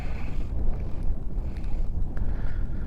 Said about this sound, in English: it's windy as hell up here